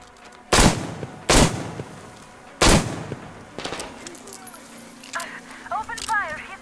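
Three loud, sharp gunshots in the Metro Exodus video game, spaced about a second apart, followed by quieter rattling game sounds and distant voices.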